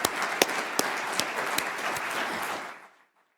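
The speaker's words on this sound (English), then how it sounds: "So I think we should give her a big round of applause." An audience at a winter symposium session claps, the crisp, fairly quiet applause blending with a few louder individual claps before fading out to silence near the end.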